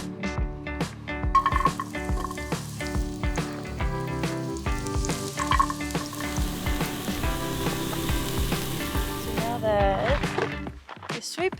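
Sweet potatoes fry steadily in a pan at a campsite, a continuous crackling sizzle with occasional scraping and clinks of stirring, while a person talks over it.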